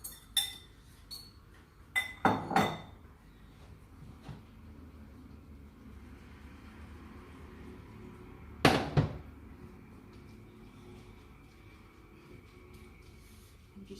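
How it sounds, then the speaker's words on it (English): Pasta carbonara with egg stirred in a pan, a few sharp clinks and scrapes of a utensil against the metal in two short bursts, separated by long quiet stretches with faint background noise. "you stir everything up to mix it through"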